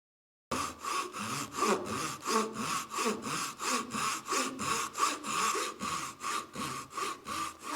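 Hand saw cutting a wooden dovetail joint, steady rhythmic back-and-forth strokes, about two per second, close and clear throughout with no talking.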